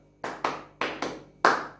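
Five sharp hand claps in a children's clapping game, crisp and close, grouped as two, two and one with short pauses between, alone with no talk.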